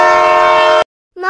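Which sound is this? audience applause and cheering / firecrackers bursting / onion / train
train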